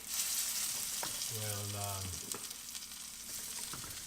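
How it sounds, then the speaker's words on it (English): Sirloin beef frying in a pan, a soft steady sizzle heard from close by under a brief low hum, with a few faint clinks and a single word spoken. "Now let's add our sirloin."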